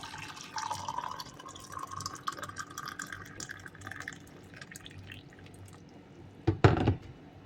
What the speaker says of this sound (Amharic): እንደዚህ የፈላ ውሃዬን ጨምራለሁ